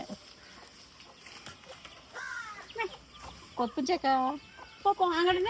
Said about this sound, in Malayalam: കറുത്ത കോഴി കറുത്ത കുട്ടി